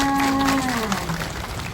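Steady applause from a crowd at a ceremony fills the whole short stretch, with a brief tonal sound fading out at the start.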